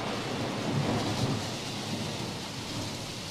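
A thunderstorm with steady heavy rain and a low rolling rumble of thunder fills the air, a continuous dense wash with no voices.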